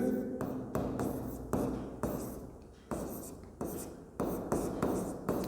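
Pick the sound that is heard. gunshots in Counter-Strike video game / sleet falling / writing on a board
writing on a board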